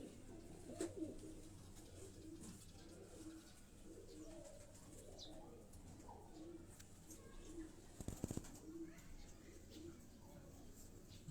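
A pearl-marked high-flying pigeon coos softly at close range amid ambient outdoor noise, with a few low murmuring calls and a brief rustle partway through.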